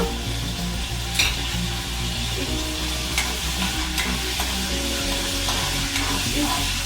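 Fenugreek, cumin and mustard seeds roast in a pan for coriander chutney, a steady close sizzle with a low hum underneath and occasional sharp stirring clicks.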